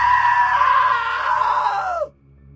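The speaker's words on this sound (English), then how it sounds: "Now that was a great scream." A loud, sustained scream from a character in the video game What Remains of Edith Finch, holding steady for about two seconds before breaking off and dropping into near silence.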